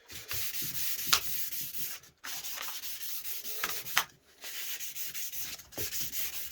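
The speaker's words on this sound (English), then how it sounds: "I'm going to move on to 500 just on a cork block really" Wood is sanded by hand with 500-grit paper wrapped on a cork block. Rhythmic back-and-forth rubbing strokes come in steady bursts with short pauses, close and fairly quiet, with no voices.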